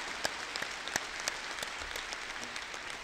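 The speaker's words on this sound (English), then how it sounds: "You all deserve a round of applause." Scattered, fairly distant clapping from a commencement crowd cheering the graduating class of 2012 at Nebraska, individual claps audible over a steady hall-like wash of noise.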